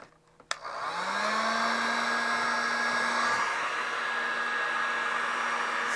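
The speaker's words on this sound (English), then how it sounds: "Now I'm using this heat gun to heat it up." A heat gun warming an NTC temperature sensor on an ESP32 setup, a click then a loud, steady blowing whir that ramps up and holds close to the mic with no talk.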